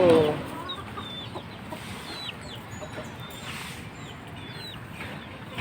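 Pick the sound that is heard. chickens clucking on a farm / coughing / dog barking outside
chickens clucking on a farm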